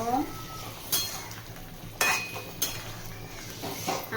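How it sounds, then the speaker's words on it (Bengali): Fried potatoes and split-pea lentil fritters tossed together in a pan with a vegetable curry, giving a few close metallic scrapes and clinks of spoon on pan at uneven intervals over a quiet background. "এই সময় ভেজে রাখা আলু আর মটর ডালের বড়া সব দিয়ে দেব একসাথে আবারও মিশিয়ে নেব"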